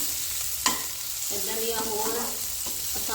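Onions frying in a pan, a continuous close sizzle with a sharp clatter of a spoon and some stirring movement, with no talking.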